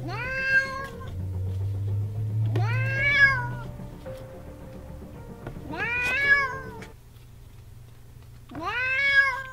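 A cat meows four times at spaced intervals at a cardboard cutout of a cat, clear and close, with a low hum and faint knocks in the background.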